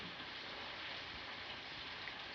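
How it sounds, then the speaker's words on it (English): Steady rain falling in a dense, even hiss that stays constant and fairly quiet throughout, with no voices or other sounds. "It's raining."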